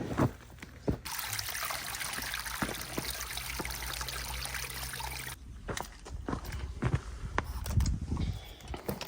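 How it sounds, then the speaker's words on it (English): Water pours into a freshly dug trench at an old house renovation in Portugal, a steady gurgling trickle close by for several seconds before it stops, followed by scattered knocks and splashes. "So the plan is to flood this bit of the trench out and let the water soak down"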